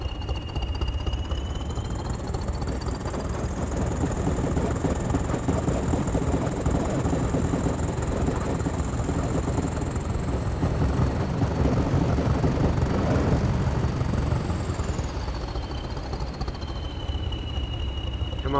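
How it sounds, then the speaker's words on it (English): Heavy coal wagons behind a BR Blue Class 20 diesel pulling away from a power station stop board in a train simulator game: a steady, loud rumbling drone with a rising and falling whine over it, no talk. "Listen to the wagons as we get moving."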